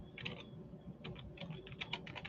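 Quiet typing of a website address on a computer keyboard, a run of quick, light keystroke clicks in uneven bursts with short pauses between them and no speech.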